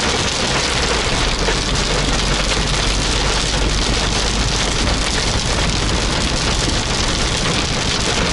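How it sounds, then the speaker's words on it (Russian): Steady heavy rain falling on a surface on the road through Turkey near Isparta, a dense, constant hiss of drops that fills the whole stretch with no voices. "Так быстро дождь закончился"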